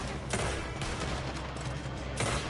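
Rapid gunfire crackles during a Red Dead Redemption 2 robbery shootout, a dense fusillade of overlapping shots with a few sharper cracks standing out over steady rumbling noise.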